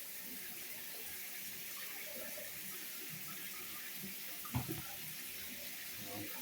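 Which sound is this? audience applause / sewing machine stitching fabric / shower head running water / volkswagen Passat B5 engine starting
shower head running water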